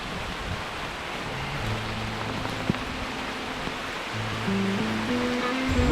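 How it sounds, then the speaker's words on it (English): Steady heavy rain hisses and pours continuously, with low tonal hums from nearby engines or electronics running underneath. "The rain is so hard you can't even hardly see."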